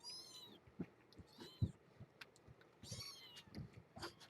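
Small kittens mew repeatedly in thin, high cries that come in scattered bursts, close by in a quiet room with a few soft thumps between calls.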